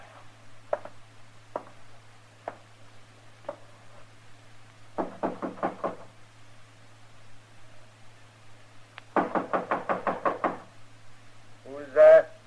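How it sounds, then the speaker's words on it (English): Knocking on a wooden door in an old Western radio drama, in several bursts of quick raps with pauses between them, close and clear over a steady low hum. "knock on the door"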